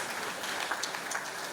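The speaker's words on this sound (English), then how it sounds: "Please give them a round of applause." Scattered audience applause at a tax clinic event in Abuja, a fairly faint patter of clapping from a seated crowd with brief murmurs underneath.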